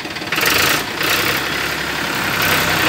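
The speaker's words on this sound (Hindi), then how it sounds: "क्या धाड़ है ट्रैक्टर की भाइयों" A Steeltrac mini tractor idles nearby, a loud steady engine chug with an even rhythmic pulse that swells slightly at moments, with no talk.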